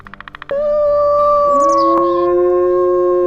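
Wolves howling at their den: a rapid series of short yips leads into long, sustained, loud howls, with a second howl rising in to join partway through.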